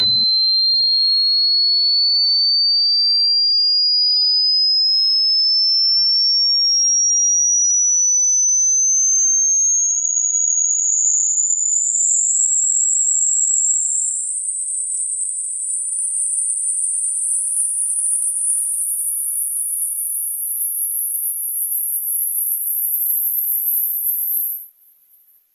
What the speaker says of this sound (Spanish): Cuanto más joven seas, más alta será la frecuencia que podrás escuchar.